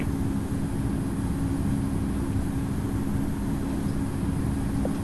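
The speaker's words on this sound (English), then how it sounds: "now that we're at the takeoff speed currently, we're going to start to slowly pull back" A steady, even engine drone rumbles from an airplane accelerating for takeoff in the Infinite Flight Simulator video game, holding constant and moderately loud without changes or voices.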